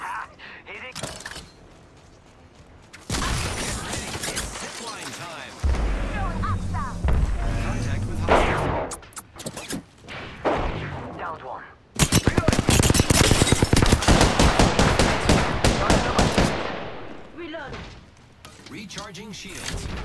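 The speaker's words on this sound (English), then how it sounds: "They're shooting at me." Gunfire in the battle royale game Apex Legends: bursts of rapid shots and impacts come in loud, dense stretches separated by quieter gaps, with a voice speaking at times.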